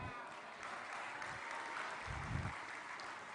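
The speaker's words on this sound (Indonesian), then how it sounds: "Tepuk tangan sekali lagi buat Bapak Presiden kita." Crowd applause at a large Indonesian live ceremony for a mass KUR loan signing, a steady spread-out clapping wash heard from a distance, fairly faint, with a few louder low thumps mixed in.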